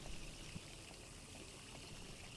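Water running and pouring steadily down a drain in The Darkness 2 video game, a continuous splashing trickle at low level with no breaks, heard alone.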